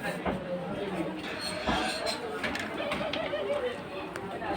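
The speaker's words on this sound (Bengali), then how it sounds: "সিরাজি কিং কবুতর" Siraji king pigeons, a hen and her mate, coo in a low murmur while someone talks over them close by.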